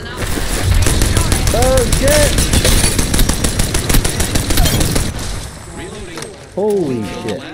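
Rapid automatic gunfire in the Apex Legends battle royale game rattles loudly and continuously for several seconds, then gives way to game effects and voice chat as a player talks.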